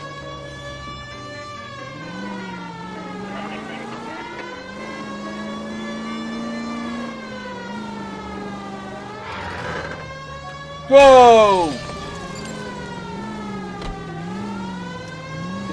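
Siren in the L.A. Noire video game, a rising and falling wail that runs through most of the stretch under a voice, with a brief loud burst near the end.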